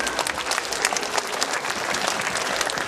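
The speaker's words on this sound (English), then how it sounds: "Let's give them a round of applause as they make it down here" A school assembly audience at an elementary school applauds volunteers walking to the front, with dense, steady clapping from many hands filling the room at full volume throughout.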